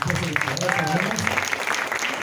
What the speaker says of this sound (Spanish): también requieren un muy buen aplauso por parte de nosotros